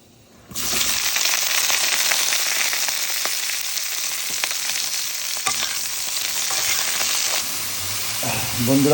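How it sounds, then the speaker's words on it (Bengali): Hilsa fish cooking with ridge gourd, green chillies and black cumin in mustard oil bursts into a loud, dense sizzle after a quiet start, then holds a steady close frying hiss with faint stirring taps. "কাঁচামরিচ, সরিষার তেল, ঝিঙা দিয়ে আপনার ইলিশ মাছ রান্না করছি।"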